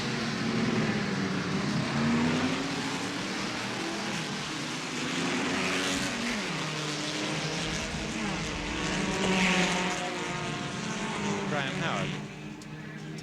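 South Pacific series production touring cars (Chrysler Chargers, Holden XU1s and Ford GTHOs) roar in the middle distance at Warwick Farm in 1972, their engines rising and falling beneath continuous commentary.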